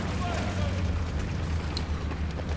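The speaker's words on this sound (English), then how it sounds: "What are all these explosions? What causes these explosions? God damn it. It's a grenade launcher," Grenade launcher explosions in Battlefield 4 rumble as a continuous, dense low boom and roar across the whole stretch, loud and sustained rather than distinct single blasts.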